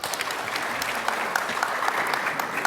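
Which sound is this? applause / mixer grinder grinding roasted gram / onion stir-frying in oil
applause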